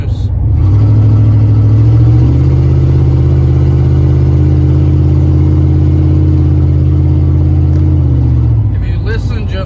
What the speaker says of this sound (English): I think my quick fix exhaust repair has come loose.